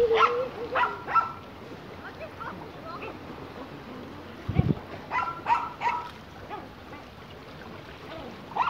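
A poodle barks a few times at a beach by the water near a boat, short sharp yelps spaced across the scene, moderately near, with people talking over and between them.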